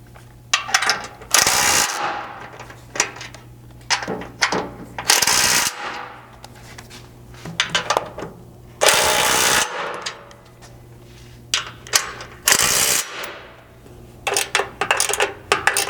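A ratchet with a 3/4 socket runs down rock slider bolts on a Ford Bronco, giving repeated bursts of rapid mechanical clicking separated by short pauses, close and fairly loud over a low steady hum.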